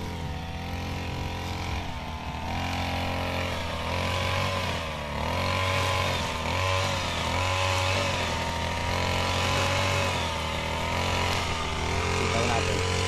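Grass cutter engine running steadily and close in a farm field, a continuous buzzing drone with slight revving fluctuations throughout.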